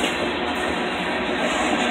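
Steady, loud roar of a Norfolk Southern freight train rolling past close by, a continuous rushing rumble with no pauses.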